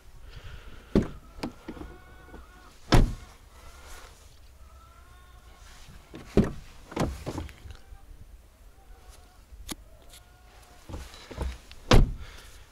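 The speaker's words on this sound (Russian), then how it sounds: "Вот, слышно, как дверь стала закрываться. Ну, не глухо, но помягче." A LADA Vesta SW station wagon's car door, fitted with an added rubber seal, is shut several times, each a soft but solid thunk, with quieter handling noises and faint sliding sounds in between, close by.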